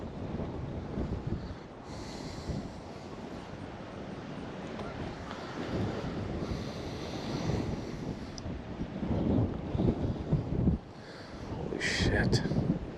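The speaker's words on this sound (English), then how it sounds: "This wind is pretty rough." Strong, gusty wind at a pond buffets the microphone in a continuous rough roar, swelling and easing in loudness over several seconds, with no speech heard.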